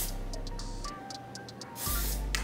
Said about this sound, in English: We'll just spray it in there for now.